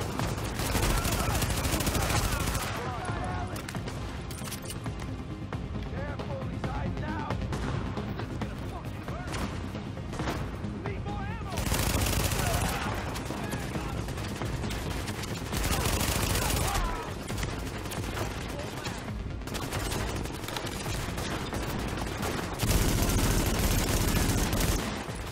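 Gunfire from a heavily recoiling weapon in the shooter The Division: long, loud, sustained automatic bursts broken by brief pauses, close up and dominating throughout, with a voice occasionally underneath.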